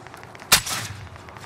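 A single sharp gunshot cracks out in Call of Duty Warzone Rebirth, followed by a brief rumbling tail and faint background game noise, with no voices.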